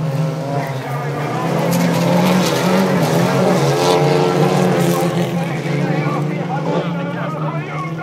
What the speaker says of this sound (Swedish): Jimmy Åberg, han försöker, han sladdar.